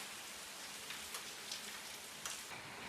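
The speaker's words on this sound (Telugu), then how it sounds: "గైస్ వాన చూడండి." Steady rain falls in the open during a Kavadi festival day in a village, a dense even hiss with a few louder drops and gusts, no voices over it.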